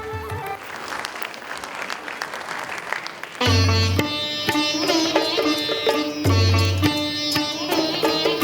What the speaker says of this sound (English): Please welcome them on the stage with a big round of applause.